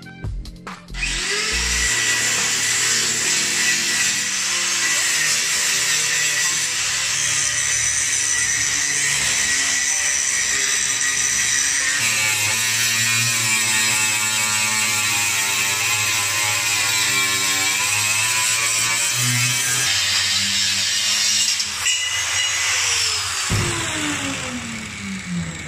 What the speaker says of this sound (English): Let's go to the grinder.